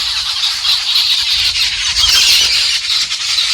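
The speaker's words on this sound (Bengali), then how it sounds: "কেমন লাগলো পাখিদের আওয়াজ, খুব সুন্দর না?" A dense chorus of birds squeals and squawks continuously in a Bangladeshi village, bright and fairly loud throughout, with no one speaking.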